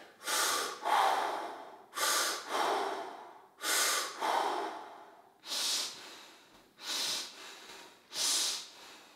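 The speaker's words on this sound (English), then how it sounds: "and breathe." Deep, slow breaths are drawn and released close to the microphone, six or seven rhythmic cycles of airy inhales and exhales with brief pauses between them, no talking.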